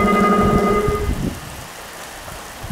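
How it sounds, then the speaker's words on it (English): Pouring rain with thunder at an outdoor show jumping event in Ireland, a loud, dense hiss of rain with a deep rumbling roll in the first second that settles into a steady downpour. "out in the pouring rain"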